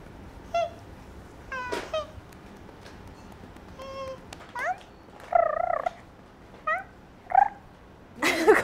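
Cats at a Tokyo cat cafe meow repeatedly in short, scattered calls, some brief and some drawn out, over a quiet indoor background.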